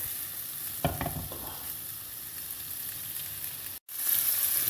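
Tomatoes sizzle in a pan for seafood pasta, a steady hiss of frying with a few scraping stirs near the start, then a brief cut to silence before the sizzle returns louder.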